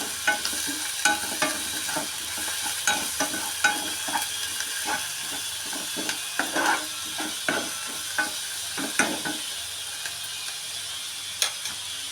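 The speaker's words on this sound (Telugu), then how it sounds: "ఇలా గోల్డెన్ బ్రౌన్ కలర్లో వచ్చిన తర్వాత కరివేపాకు కొద్దిగా" Onions and curry leaves fry in hot oil for a hotel-style drumstick curry, a steady close sizzle broken by regular scraping, clicking strokes of stirring throughout, with no talking.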